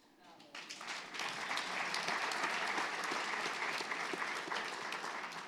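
Applause from a seated audience at a business breakfast event fills the room, starting faintly and then building into steady, dense clapping that carries on to the end.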